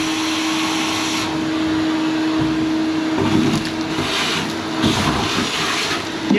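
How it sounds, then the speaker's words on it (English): Shop vacuum sucking debris out of the hull of a 1964 Correct Craft American Skier boat, a loud steady whining roar up close with rattling scrapes and gurgling bursts as material is drawn in. "let's go ahead and get some vacuuming done"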